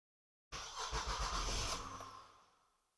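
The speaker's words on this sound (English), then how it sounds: "let's turn on the car and see if that thing goes away" A car engine cranks and catches after a moment of silence, then settles into a loud idle that gradually fades away, heard close and alone with no talking.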